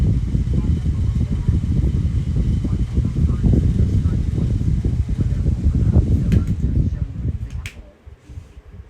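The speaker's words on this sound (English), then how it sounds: "That's the only reason why you hear the rattle." A mechanical fan with its guard held by only two screws, giving a loud steady low whir and rattle that continues for most of the stretch and then drops away near the end.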